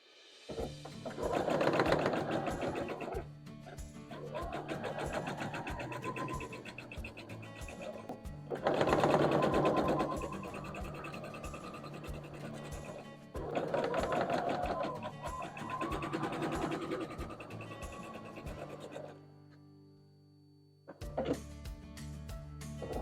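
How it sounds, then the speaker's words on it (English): A sewing machine stitches light green quilt pieces in several long runs of fast, even, rattling hum, each lasting a few seconds and broken by short pauses, close up, with a quiet gap near the end before a brief final burst. "we're going to sew down at an angle on either side"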